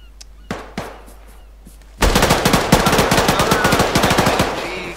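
Rapid machine-gun fire in a military video game, a few isolated shots at first and then a sustained loud burst of steady rattling fire near and dense.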